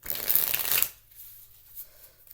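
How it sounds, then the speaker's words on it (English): Tarot cards riffle in one quick, close shuffle lasting under a second, followed by near silence with faint handling. "We are going to shuffle these 3 times and then softly 3 times"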